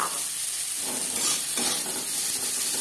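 Chopped onion and tomato frying in oil just after tempering whole spices, a loud continuous sizzle with stirring scrapes and no talking.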